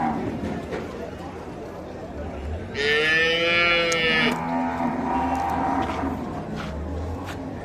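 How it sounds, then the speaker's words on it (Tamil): Amid the crowd murmur of a busy cattle market with dairy cows, native cattle and buffaloes, one cow lets out a loud, drawn-out moo near the middle, with people talking throughout. "பால் மாடு நாட்டு மாடுலாம் ஜாஸ்தியாக வந்திருக்கு. எருமை மாடு இன்னைக்கு கொஞ்சம் ஜாஸ்தியாக தான் வந்திருக்கு."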